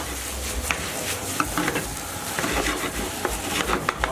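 Fried rice sizzles in a pan over high heat while being stirred, with steady frying hiss broken by scraping and clicking of a utensil against the pan, close and without talk.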